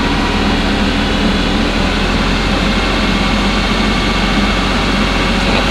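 A Mercedes-Benz CLK 430 engine revs after a radiator replacement, with the heater on full to push air from the cooling system. It makes a loud, steady, close-up engine roar for the whole stretch, and no one speaks.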